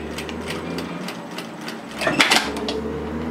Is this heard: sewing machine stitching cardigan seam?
yes